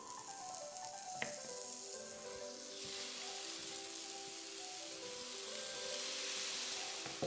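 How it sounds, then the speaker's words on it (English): Food sizzles steadily in a hot pan, a continuous hiss that swells slightly over time, with a brief clink near the start. "That's a pleasing sizzle."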